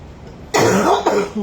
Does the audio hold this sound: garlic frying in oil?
no